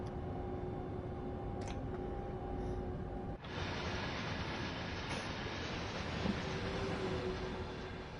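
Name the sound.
train locomotive running in Train Sim World 5 video game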